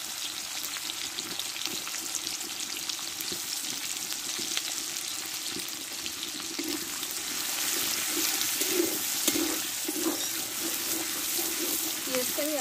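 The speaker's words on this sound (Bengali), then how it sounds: "এই পেঁয়াজটা আমি তেলে দিয়ে ভেজে নেব" Onions fry in hot oil in a home kitchen, giving a continuous bright sizzle that grows slightly louder partway through, with occasional stirring clatter.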